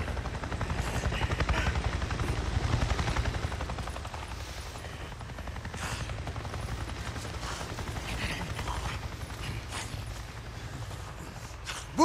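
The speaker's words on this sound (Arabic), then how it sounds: "انا شفت طيارة هليكوبتر" A video game helicopter's rotor chops steadily in Days Gone, loud at first, then easing off slightly as it continues overhead, with faint mechanical clatter.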